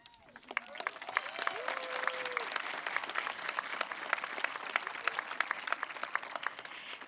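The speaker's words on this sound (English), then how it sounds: "join me in another round of applause" A commencement ceremony audience breaks into applause that swells within the first second into dense, sustained clapping from a large crowd, heard from some distance and holding steady to the end.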